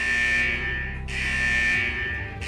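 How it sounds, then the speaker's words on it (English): A central vault alarm in Wuthering Waves blares in two long, loud electronic buzzer pulses with a brief gap between them, heard alone without talk. "Is that the central alarm of the vault?"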